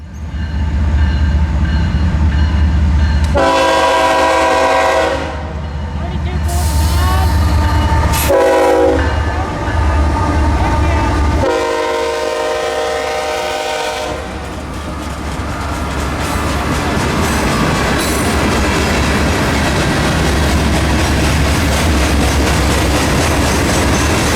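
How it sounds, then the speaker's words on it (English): A CSX Q609 freight train led by an SD60I locomotive and carrying armored recovery vehicles rolls through Folkston, sounding several long horn blasts over a loud engine rumble, then continuing with rolling wheel clatter as the cars pass close by. "Later on in the evening was the train of the day through Folkston, CSX Q609 with an SD60I, as well as 3 armored recovery vehicles."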